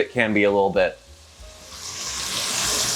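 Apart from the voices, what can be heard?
tofu frying at a soft sizzle in a pot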